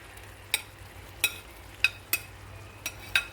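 Mussels cooking in garlic butter in a pan are stirred with a utensil, giving six sharp scraping clinks spaced about half a second apart over a low, steady sizzle.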